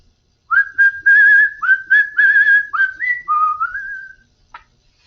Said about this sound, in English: She could whistle many catchy tunes.